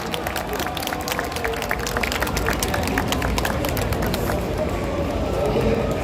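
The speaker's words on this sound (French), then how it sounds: "on peut l'applaudir encore bien fort" Audience at a Paris Games Week 2024 Ubisoft cosplay stage applauds a Princess Peach cosplayer, a steady broadband wash of clapping and crowd noise that holds loud throughout with scattered sharper claps.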